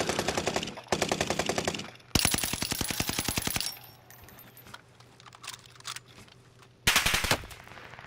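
Automatic gunfire in a shooter video game, heard as loud, rapid bursts of shots in several separate volleys with short quieter gaps between them, close and alone without voices.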